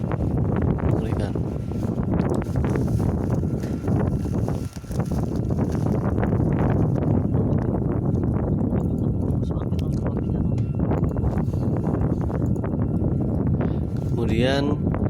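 Powerful wind blasts across the crater mouth by the lava dome of Merapi volcano, a continuous loud roar with mic buffeting that dips briefly, with a faint voice near the end.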